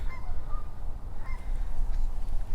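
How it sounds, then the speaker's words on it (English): Geese honk outdoors in New Jersey, a few scattered calls at moderate distance over a steady low rumble of wind or traffic, with no talking. "Shut up, birds, ducks, geese, whatever."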